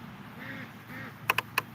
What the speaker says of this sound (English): these ducks have a terrible habit of standing right in the middle of the road when they see a car coming